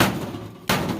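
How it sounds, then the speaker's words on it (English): A hammer strikes a piece of scrap metal twice to knock a part loose, each hit a sharp, loud, close clang with a brief ring. "So right there, guys, just hit with your hammer."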